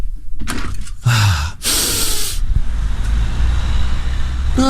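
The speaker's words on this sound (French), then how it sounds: "J'entends les voitures et j'entends les voitures passer." A window opening onto a city street, followed by a loud sliding rush and steady traffic noise with cars passing at a moderate distance.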